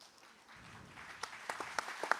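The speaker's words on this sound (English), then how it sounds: "You can give yourselves a round of applause." Audience applause at a public hearing in Snohomish, Washington: scattered, fairly faint clapping from a room of people that builds toward the end of the short stretch.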